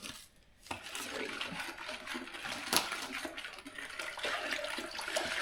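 Water poured from a jug in a steady, splashing stream, continuous and fairly close after a brief quiet start, with no talk.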